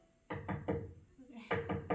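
A student in a piano lesson presses the keys down to the key bottom, producing a hard, knocking attack on each note. Two close groups of three struck notes are separated by a short pause, with a little talk between them.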